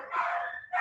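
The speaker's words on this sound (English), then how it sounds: "you're hearing my dogs." Dogs shut in a room of a house bark and whine nearby, a short, fairly faint burst of vocalising.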